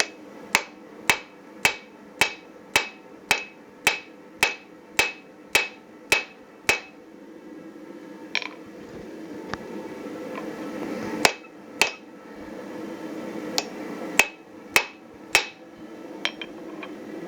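A hammer strikes hot steel while forging a handled marking punch, a fast regular series of sharp metallic rings followed by a pause with scraping and a few more spaced blows.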